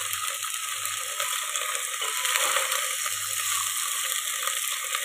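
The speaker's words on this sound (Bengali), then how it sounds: "এগুলো একটু ভালো করে নাড়তে হবে, বিকজ এগুলো একটু অন্তত ভাজা ভাজা হতে হবে।" Potatoes and beans stir-fried in a pan for vegetable biryani, a continuous bright sizzle with scraping and rattling from stirring, close and steady, with no talking.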